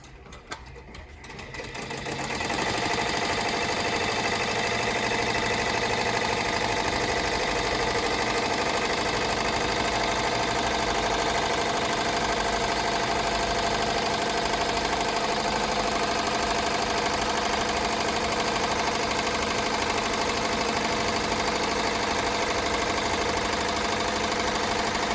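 An embroidery machine runs a tack-down stitch to hold fabric in its frame for chenille letterman jacket work, a steady close mechanical whirr with rapid stitching rhythm that starts after a brief pause and continues unbroken throughout.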